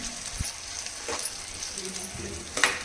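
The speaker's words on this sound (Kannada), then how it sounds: "ಇದನ್ನು ಚೆನ್ನಾಗಿ ಈ ಥರ ಎಣ್ಣೆಯಲ್ಲಿ ಚೆನ್ನಾಗಿ ಕೈ ಆಡಿಸಿ ಹಸಿ ವಾಸನೆ ಹೋಗೋವರೆಗೂ ಇದನ್ನು ಫ್ರೈ ಮಾಡ್ಕೊತಾ ಇದ್ದೀನಿ" Masala paste stirred and fried in oil, a soft steady sizzle with occasional scraping stirs against the pan, close but quiet.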